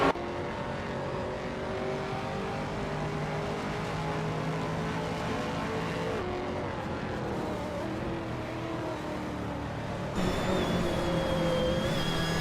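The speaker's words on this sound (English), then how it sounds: "Bot Daisy Shines and Bot Bililj are battling for 23rd, eyeing each other's bumpers." Race car engines in a video game roar and whine continuously as cars battle on track, a steady close drone of revving motors with a shift in tone near the end.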